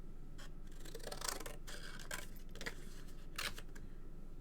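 Scissors snipping through card stock during card making, a few quiet, separate crisp cuts spaced irregularly against a soft background hiss.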